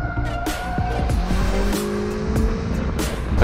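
Car tires squeal and skid through a handbrake turn on a track during a slalom exercise, the screech sitting over a steady, loud engine drone and the rumble of cars moving nearby.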